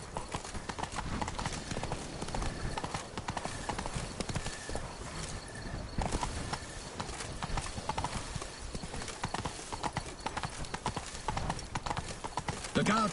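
Roach, the player's horse in a video game, gallops with steady, rapid clip-clop hoofbeats throughout, mixed with game music and occasional voices.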